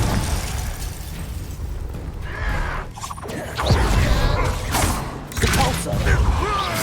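Fire-blast spell explosions in a wizard video game, several loud bursting booms and pops in quick succession over a rumbling, mechanical game background.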